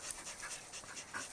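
A Norwegian Elkhound pants in quick, rhythmic, breathy puffs, close and faint.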